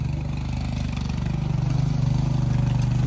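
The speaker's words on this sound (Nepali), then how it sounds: "हिजो एउटा ट्र्याक्टर बिग्रियो त्यही भएर आज अर्को ट्र्याक्टर लिएर हामी जोत्दैछौँ" A tractor engine works a field during ploughing, throbbing steadily and close with a rhythmic pulsing chug that grows slightly stronger toward the end.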